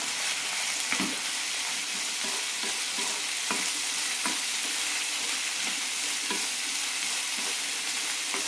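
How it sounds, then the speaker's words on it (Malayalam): Chopped banana stem with roasted gram and chillies sautés in a hot pan for a chutney, giving a dense, even frying hiss throughout, broken by occasional soft knocks of a stirring spoon, close and without speech. "നന്നായി വഴറ്റിയെടുക്കാം."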